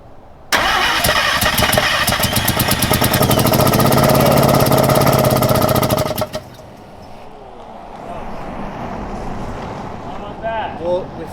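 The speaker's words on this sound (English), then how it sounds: "No, just go ahead and crank." 1979 Mazda RX-7 rotary engine cranking with a loud, fast rhythmic starter chatter for about six seconds, then cutting off to a low rumbling idle, close by, with voices in the background.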